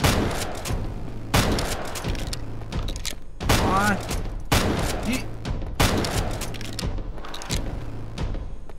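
Repeated gunshots and heavy thumps from a horror shooter video game ring out in bursts across the stretch, close and loud, with a voice occasionally talking over the firing.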